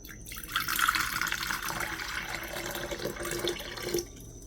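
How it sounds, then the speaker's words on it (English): Water pours steadily into a cup for a coffee reading, a continuous close splashing stream lasting about four seconds before it stops abruptly, with no talking. "So let's go ahead and pour your water in."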